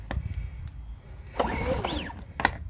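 A Power Smart 3800 watt inverter generator engine cranking with short pull bursts, then catching briefly with a rising mechanical whir before another pull, close and intermittent.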